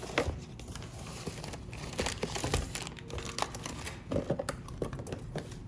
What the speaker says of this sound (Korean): 안에 박스를 열어보면